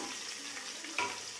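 Large chopped onions and green chilies sauté in a pan for mutton biryani, a faint steady sizzle with one brief scrape or clink near the end.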